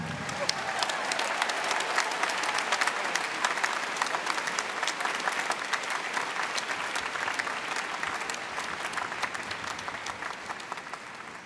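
A commencement audience applauds at a university ceremony, dense sustained clapping from a large crowd that holds steady and slowly eases.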